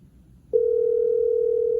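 A BassJaxx Soundwave Bluetooth speaker plays a phone call tone that starts abruptly after a quiet moment and holds as a loud, steady, unbroken tone.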